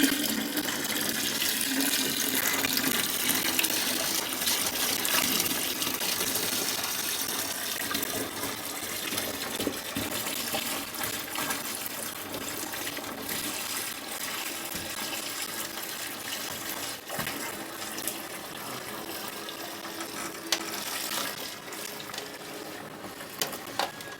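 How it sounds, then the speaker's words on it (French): Water pours and gushes steadily into a vessel to top up a 23-litre wine batch made from concentrate, a continuous rushing fill sound with occasional splashes and knocks, no talking. "on va compléter avec de l'eau pour faire 23 litres"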